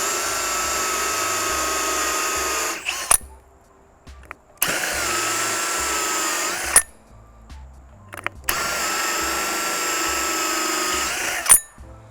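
A power drill spinning a hole saw into material in three long bursts of loud, steady whirring, separated by short pauses and a clunk as the bit is pulled back.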